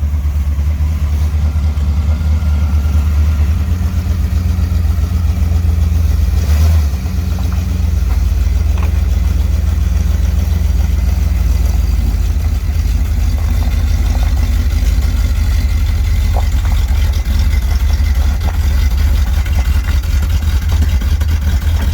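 A Dodge street van with custom side pipe exhaust and a badly plugged muffler runs loud and close, its engine rumbling deep and steady throughout with slight swells as it moves off.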